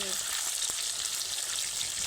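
Pointed gourd and prawns fry in a pan, a steady bright sizzle and crackle of hot oil holding level and close throughout.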